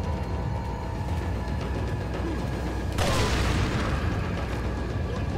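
Explosives blow up in the video game Resident Evil 4, a single heavy blast bursting out partway through over constant game noise and rumble.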